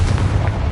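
A Confringo blasting spell goes off as a single short, deep explosive boom, loud and close, with a low rumble that fills the whole brief moment.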